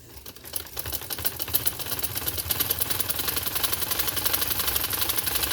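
Domestic sewing machine stitching cutwork on a sleeve or trouser piece, a steady rapid mechanical clatter running continuously and close throughout, no talk.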